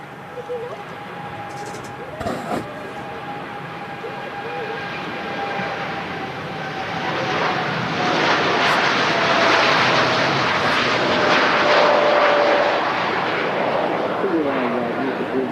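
A jet airliner on its takeoff roll at Manchester Airport builds from a distant whine into a loud, broad engine roar that swells and holds, heard from a spotting position with a faint tone running beneath.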